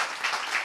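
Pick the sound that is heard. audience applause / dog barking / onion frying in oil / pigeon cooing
audience applause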